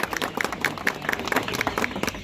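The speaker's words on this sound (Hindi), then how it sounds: "सब तालियों के साथ स्वागत करें एक बार।" Crowd applause at a political gathering welcoming new members who have left the Congress party, with dense, steady clapping from many hands sustained throughout.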